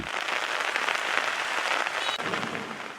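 Heavy rain pours down in Bhola, Bangladesh, in a dense, continuous hiss, steady and loud throughout with no voices.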